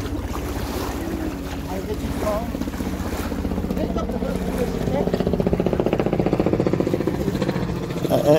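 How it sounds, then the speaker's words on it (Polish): A jet ski engine passes on open water, its buzzing whine growing louder and nearer toward the end over wind and lapping water, while people talk nearby. "To jest skuter wodny."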